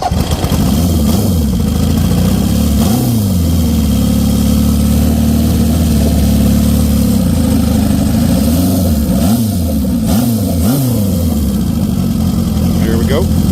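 Honda CB750 Turbo motorcycle engine idling low, a continuous rough loud rumble with small rises in revs and voices talking in the background.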